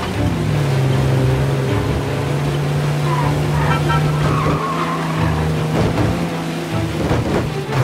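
Heavy rain and rumbling thunder in the video game Mafia: Definitive Edition, a dense constant downpour with low rolling booms, mixed with car engine noise and skidding on a flooded road.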